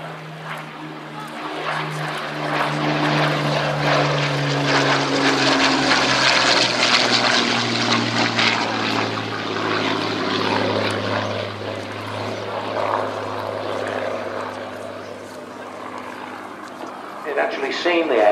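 A 1930s propeller fighter flies at Old Warden, its piston engine droning steadily with a changing pitch as it passes, while a voice narrates over the engine noise.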